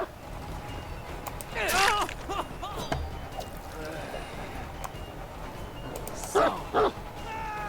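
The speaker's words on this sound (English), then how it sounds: "you can just shoo the dog away that quickly?" A dog in the Dead by Daylight video game barks and yips in short bursts, a cluster near the start and two sharp barks near the end, over a low game background.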